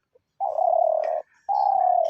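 A caged hunting dove coos twice in close succession, each deep, steady call lasting close to a second, loud and near against an otherwise quiet background.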